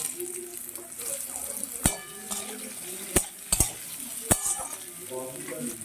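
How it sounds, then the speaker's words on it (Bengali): Bottle gourd pieces stirred in a pan with frying ginger: a continuous sizzle broken by several sharp spatula scrapes and clanks against the pan. "সমস্ত লাউটা দিয়ে দিলাম আদার সঙ্গে লাউটাকে একটু নেড়ে চেড়ে নেব"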